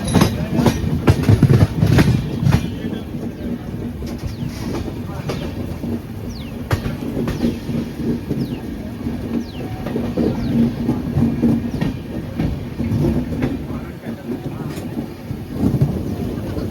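The 12641 Thirukkural Express runs along the rails in India, a loud, steady rumble and rattle heard from on board with rhythmic clickety-clack of the wheels and sharp clanks throughout, with no talk.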